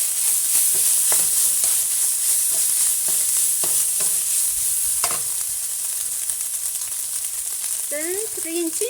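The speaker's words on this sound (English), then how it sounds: "This is white pepper. Stir fry a bit." White pepper stir-fried in a hot wok for pork spring roll filling, a steady loud sizzle with repeated scraping stirs of the spatula, and a brief squeaky tone near the end.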